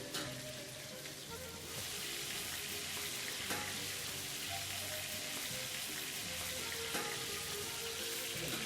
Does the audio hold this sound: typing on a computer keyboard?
no